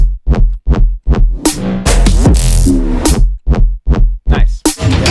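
A loud, punchy Serum synthesizer playing rhythmic stabs and a sustained chord, its low frequencies heavily compressed and pumping, close and dense with no talking.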